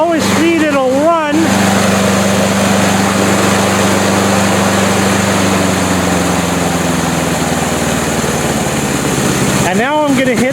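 Small lawn mower engine held at its lowest running speed, a steady close drone throughout, with brief tonal sweeps at the start and end.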